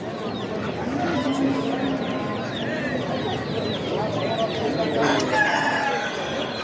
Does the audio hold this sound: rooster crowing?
yes